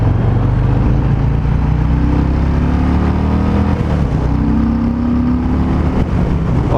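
A 2019 Harley-Davidson Fat Boy V-twin engine pulling hard under acceleration, a loud close rumble with pitch sweeping upward through the gears, wind buffeting throughout and no talk.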